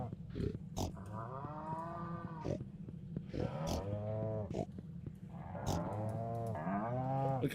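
Cows in the Stardew Valley farming game moo repeatedly, with several long, low, drawn-out calls following one another and overlapping, loud and close with no talking.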